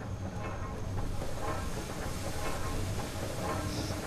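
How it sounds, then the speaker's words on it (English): Steam and oil spray from broken machinery in Amnesia: The Dark Descent, a continuous loud hiss with faint rattling clatter underneath, steady and close throughout. "Steam and oil going everywhere"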